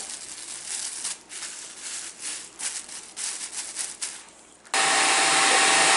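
Rustling and rubbing sounds over a plastic hair cap, then a hood hair dryer switches on with a loud, steady whooshing roar.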